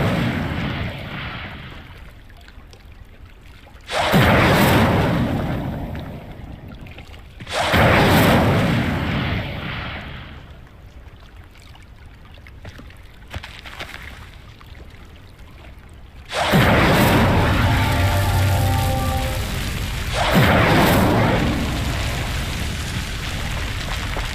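Incendio fire spell from Hogwarts Legacy lighting pyres, several sudden whooshing roars of flame that flare loudly then settle into a crackling rush, with quieter gaps between bursts and a longer sustained blaze near the end.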